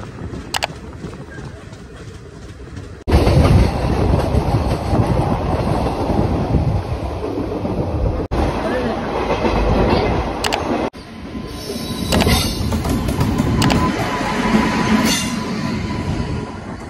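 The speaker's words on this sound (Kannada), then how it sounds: "ಸೊ ಫೈನಲಿ ನಮ್ಮ ಟ್ರೈನ್ ಬಂದಾಯ್ತು ಇವಾಗ" Amravati Express train pulling into a station platform after a delay, a loud, steady rumble of rolling railcars with wheel squeal and clatter rising and falling over about seventeen seconds, no talk.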